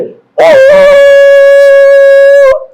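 A person blows a long, steady, tonal imitation of a conch shell that comes out sounding like a dog's howl, loud and close, held for about two seconds after a brief rough onset.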